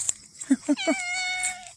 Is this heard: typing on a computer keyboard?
no